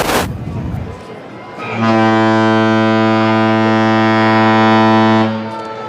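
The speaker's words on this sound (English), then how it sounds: "Another blast there from the Holland America line." A deep, loud Holland America Line cruise ship horn blares in one sustained blast lasting several seconds, rich and droning, then cuts off, at a Fourth of July parade in Ketchikan.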